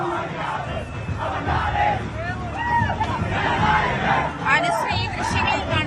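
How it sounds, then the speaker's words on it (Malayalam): Vijay fans cheer and roar loudly at a cinema theatre in Kochi for Jana Nayagan, a dense crowd din of whoops, shouts and rising yells, with chatter all through. "വലിയ ആഹ്ലാദത്തോടു കൂടി, വലിയ ആരവത്തോടു കൂടിയാണ് എന്തായാലും ആരാധകര്"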